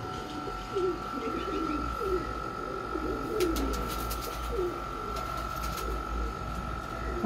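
Pigeons coo in repeated low, throaty phrases throughout, fairly close, over steady background hum and a constant tone, with a few brief clicks midway.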